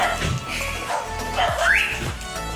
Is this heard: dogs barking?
yes